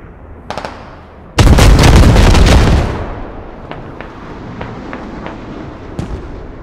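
Artillery strike in the military shooter game Squad, a loud booming blast rolling for over a second, followed by scattered distant pops and cracks of gunfire.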